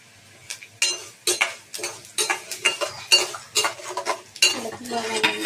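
Coriander and cumin seeds stirred in a pan while dry-roasting for curry leaf powder: a run of sharp metallic scrapes and clinks of a spoon against the pan, one stroke after another at a steady pace, close and fairly quiet, with no talking.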